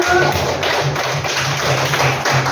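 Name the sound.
applause for participants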